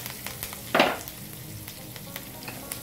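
Hot oil tempering of browned urad dal, half a spoon of cumin, half a spoon of mustard seeds and curry leaves, heard as one brief loud burst of sizzle near the start, then a low steady crackle with small pops.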